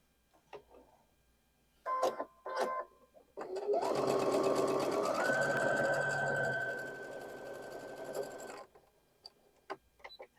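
A sewing machine chain piecing quilt block pieces, with a few short stitching bursts and then a long steady whirring run of several seconds, close up and alone.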